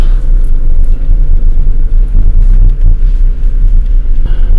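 A car drives with both windows open on a cold game drive, a loud, steady low rumble of engine, road and wind buffeting close around the cabin.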